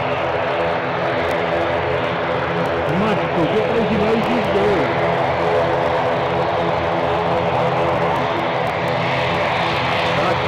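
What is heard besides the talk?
propeller plane taking off at Newcastle airport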